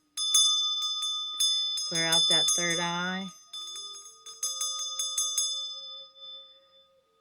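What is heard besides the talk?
Dorje bell ringing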